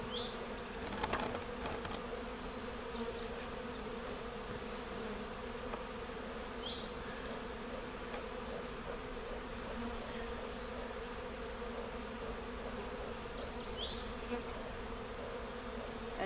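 Bees buzz in a continuous, dense drone around a homemade bee feeder, steady and close throughout, with faint bird chirps now and then.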